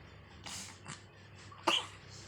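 A baby with a cough lets out a few short, faint coughs, spaced irregularly, in a quiet room with no talking.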